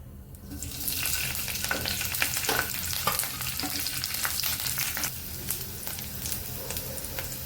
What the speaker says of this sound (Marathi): आपलं तेल गरम झालेलं आहे सिमला मिरची मी घालून घेणार आहे